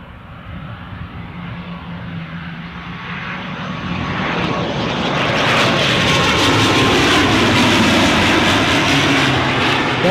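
An ATR turboprop airliner at Newcastle Airport swells from a steady engine roar into a louder, broadband rush over several seconds, close and sustained, with no talk over it.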